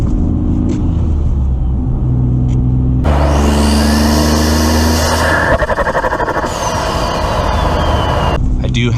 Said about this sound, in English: I do have the frequency intelligent catback exhaust on the car, and the valves currently are closed.